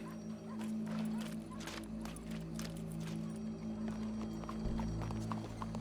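Steady clip-clop of horse hooves in Red Dead Redemption 2 over a continuous low hum, with repeated hoof strikes at a walking rhythm, moderately close.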